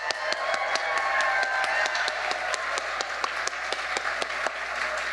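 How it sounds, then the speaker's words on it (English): A crowd at a women's awards ceremony claps steadily for the nominees, with sharp individual hand claps standing out over a continuous wash of applause. "let's give a big round of applause for every nominee in the house tonight"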